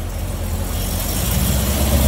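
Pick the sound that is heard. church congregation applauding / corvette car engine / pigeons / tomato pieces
corvette car engine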